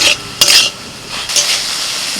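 Prawns seasoned with turmeric and salt fry in a pan in a village kitchen, with a few scraping stirs of a utensil against the metal over a steady soft sizzle.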